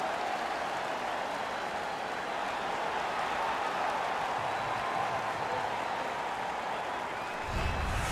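Steady, dense crowd cheering and applause fills an NHL 15 hockey video game arena after an early LA goal, a continuous loud roar with no break, swelling slightly at the very end.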